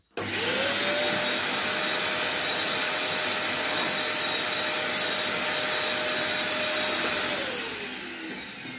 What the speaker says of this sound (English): suck that dust away. The old Hoover.